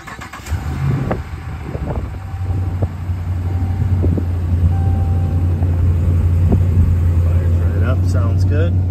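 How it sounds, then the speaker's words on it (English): A 2016 Ram 1500 pickup engine cold-starts with a brief crank. It settles into a steady, loud, low idle rumble that holds to the end, with faint clicks over it. "We'll give you a listen as we do a cold start."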